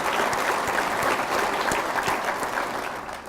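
Sustained audience applause at a Rotary International presidents-elect training gathering, a dense, even roar of many hands clapping that softens slightly near the end.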